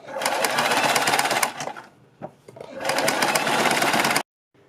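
Sewing machine stitching a bias strip onto a kurti neckline, two loud bursts of rapid running stitches separated by a brief pause with a few short clicks, ending abruptly.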